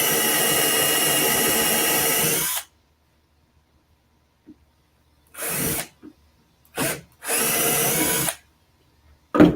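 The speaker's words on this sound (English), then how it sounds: "I start by drilling a hole." A power drill bores a hole through a wooden cutting board blank, one loud sustained whine for a couple of seconds, then silence, followed by several shorter bursts of drilling and a final brief hit.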